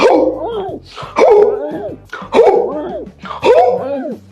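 A man imitates a dog's panting as a breathing exercise, four loud voiced bursts with pauses between, close and dog-like.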